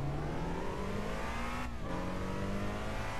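A race car in Gran Turismo 5 accelerates hard at full throttle, its engine note climbing steadily, then dropping briefly for a quick gear change before revving up again, loud and continuous with no talk.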